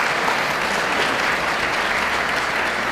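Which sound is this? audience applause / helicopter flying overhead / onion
audience applause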